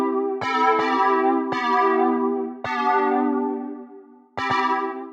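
Fauxillon plucks run through a vintage tape wobble effect, five bright bell-like struck tones, some in quick pairs, each ringing out and decaying with a slightly warped, wavering pitch, played alone.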